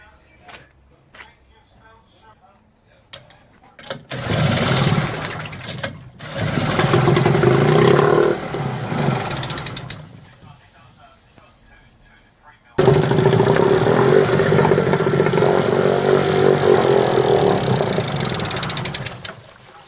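An old British Seagull Forty Plus outboard motor runs in rough bursts, starting and stalling before catching again and holding a loud, buzzing, uneven note, with people talking nearby between runs.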